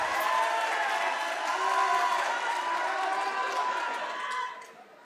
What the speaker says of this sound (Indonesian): Boleh tepuk tangan enggak apa-apa.